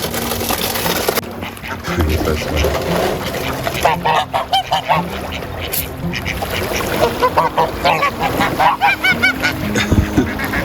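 Several geese honk repeatedly nearby beside a canal in loud, irregular bursts, with a person talking over and between the calls.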